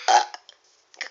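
A person lets out a short, loud burp, followed by a few faint small noises and a second brief burp-like burst at the end.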